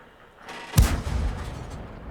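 A single heavy tank cannon shot booms in a World War II tank video game, with a sharp crack followed by a rumbling low tail that fades over about a second.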